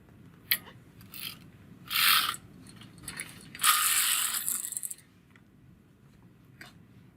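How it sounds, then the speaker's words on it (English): A hand flat knitting machine, gauge 9, has its carriage pushed across a row, giving two longer bursts of sliding, rasping mechanical noise with a few sharp clicks between them, close and clear with no talk. "the 2 cams that were closed will now be open and I will just knit across"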